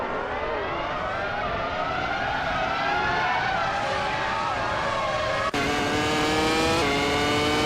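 Race cars circle a circuit with tight corners and sharp turns, engines whining steadily with overlapping pitch sweeps as cars pass close by.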